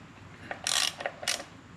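Ratchet wrench tightening the clutch plate bolts on a Harley-Davidson during a Trask Power Plate install; a few short bursts of ratcheting clicks close by, with quiet pauses between them.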